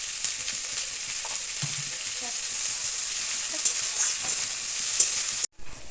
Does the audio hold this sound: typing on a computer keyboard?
no